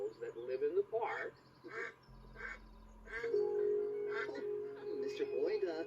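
A duck quacks from inside an animal carrier in a park, a few short nasal quacks mixed in with lively talking voices and a brief low musical tone.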